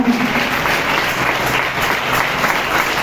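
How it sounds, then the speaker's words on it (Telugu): A church congregation claps loudly in praise at the close of a 70-day prayer gathering, a dense, continuous roar of many hands that stays steady throughout. "గట్టిగా చప్పట్లు కొట్టి ప్రభుని స్థుతిద్దాం"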